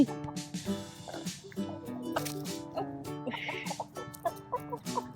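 A chicken on a sunflower farm clucks softly in short, repeated bursts close by. Faint handling and rustling noises sit underneath the calls.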